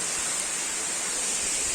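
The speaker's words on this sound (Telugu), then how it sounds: "వండర్ఫుల్గా ఉంది వాటర్ ఫాల్స్ అనేది" Waterfall at Ahobilam roaring as a steady, dense, full-range rush of falling water, loud and close with no break or voices.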